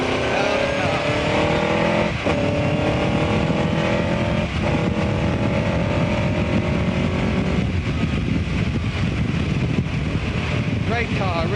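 Onboard engine of a 1959 Cooper Climax T51 race car at Donington Park, loud and close, revving through gear changes with brief dips at shifts and rising whine, sustained throughout.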